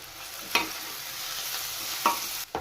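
Ingredients for a chili citranna rice dish fry to golden in a pan, a steady close sizzle broken by a few sharp scrapes of a stirring spoon against the pan.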